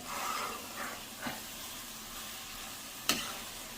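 Onions and mushrooms sauté in a pan with a close, steady sizzle and hiss, broken by a couple of brief scraping stirs, the last a sharp clack of a utensil against the pan.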